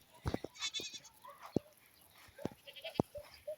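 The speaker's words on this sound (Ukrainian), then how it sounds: "Вон, сусідчини кози мекають." Several goats bleat in short, separate calls at a distance, faint against a quiet outdoor background.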